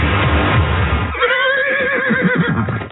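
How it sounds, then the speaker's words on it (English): A wild stallion neighs in a radio advert, a loud close whinny with a rising, shaking call that follows a burst of rushing noise, heard alone without talk. "Is that a horse? Actually, it's a wild stallion."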